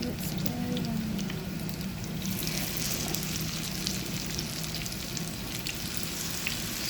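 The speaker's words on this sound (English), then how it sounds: "So while I'm frying" Zucchini patties frying in a pan give a steady, close sizzle with soft crackle that runs the whole time, and a voice murmurs faintly underneath.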